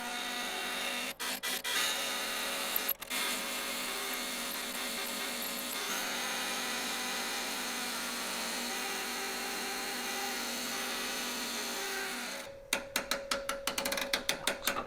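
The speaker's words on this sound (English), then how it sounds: "It's going to be loud though, because we're using a wood-on-wood drive there." A wood lathe spins a small live-edge succulent pot on a wood-on-wood drive while a small pointy gouge peels the wood back, producing a steady loud whirring rasp that ends in a few sharp clicks and taps.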